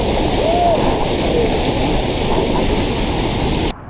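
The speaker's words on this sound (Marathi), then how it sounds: "पाण्याचा प्रवाह बघितलात का" Heavy stream water rushes and roars steadily through a Konkan village during torrential monsoon rain, a dense, continuous wash of noise that stays loud and close before cutting off abruptly near the end.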